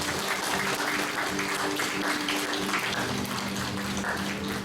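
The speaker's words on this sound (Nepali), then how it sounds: "यो समय हामी ताली बजाएर पढ्छौँ र धन्यवाद दिन्छौँ" Congregation clapping in praise during a New Year church service, a dense, steady wash of many hands sustained throughout, with faint tonal music underneath.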